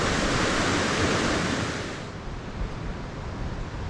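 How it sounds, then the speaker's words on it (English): The River Feshie rushes steadily nearby, a broad, continuous hiss of flowing water that softens slightly partway through, with no voices. "The River Feshie."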